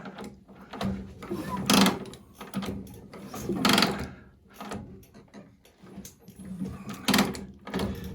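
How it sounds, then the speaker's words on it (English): An old Harley-Davidson engine is turned over slowly by hand, with repeated mechanical clunks and scraping bursts coming in an uneven rhythm, close up and fairly quiet. "so let me rotate the motor around"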